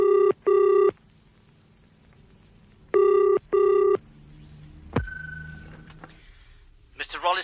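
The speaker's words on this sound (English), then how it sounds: "Now, look, Gillian, I must nip into this box and make a couple of phone calls." Old British telephone ringing in double bursts, two paired rings followed by another pair after a pause, then a receiver clunk and a voice speaking briefly.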